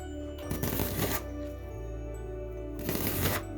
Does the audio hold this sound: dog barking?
no